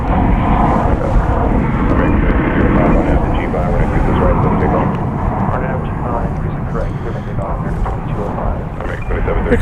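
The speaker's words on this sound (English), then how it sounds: "Here comes flight 1706. It's going to Los Angeles." An American Airlines plane on flight 1706 to Los Angeles at DFW airport gives a loud, steady engine roar throughout, while air traffic radio and a spotter's voice run over it.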